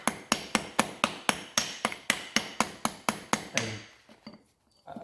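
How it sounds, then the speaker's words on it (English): Claw hammer chipping rust and brake wear off Renault rear brake parts, about fifteen sharp, evenly spaced metallic knocks close by, then a pause with a few faint taps. "I like this wee kid on claw hammer to just chip the wee bits of rust off."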